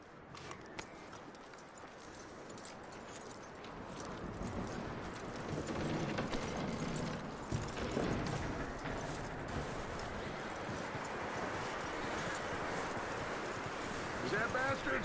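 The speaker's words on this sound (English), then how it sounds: "That looks like a decent horse" Steady clip-clop of horse hooves in Red Dead Redemption 2 keeps a rhythm throughout, with constant background rumble and a voice speaking over it.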